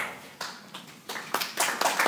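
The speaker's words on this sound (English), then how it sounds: "Wow, applause for being the introducer." An audience applauding at a talk on China's leaders and world order, a patter of claps that starts thin and swells over a couple of seconds, heard from a short distance.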